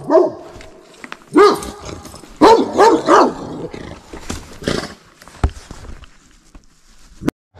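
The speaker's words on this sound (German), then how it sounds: "der Hund an dem Laufseil quer über den Weg, der lässt mich natürlich nicht rüber und der schaut echt gefährlich aus" A dog tied on a running line across a Mallorca mountain-bike trail gives loud, close barks and growling roars in bursts, then quieter breaths and a sharp final bark.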